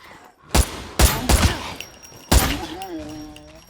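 Gunfire in the survival video game SCUM: three sharp, loud shots around half a second apart, then a fourth after a pause. Ringing electronic tones and a faint voice follow.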